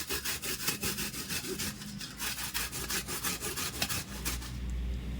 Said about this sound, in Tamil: இப்போது இந்த மாதிரி ஒரு கிரேட்டர் இல்லைன்னா சீவல் இருக்கும், அதை வச்சு இதை துருவிக்கலாம்.